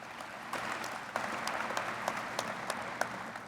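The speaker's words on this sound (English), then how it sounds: "Graduates, let's thank the family and friends that are here to support you today and give them a round of applause." A graduation ceremony audience of family and friends applauds steadily, a dense sustained wash of hand claps with a few sharper claps standing out, moderately distant and without speech.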